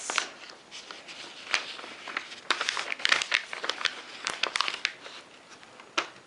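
Scissors snip and a paper pattern crinkles as it is cut, sharp close crunches and rustles in an uneven run of cuts with short pauses between them.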